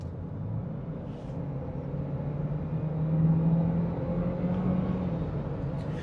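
Chevy Equinox third-generation small four-cylinder with high mileage accelerating from about 30 mph, a steady, muffled in-cabin engine hum with a rising tone that swells slightly midway, moderately quiet.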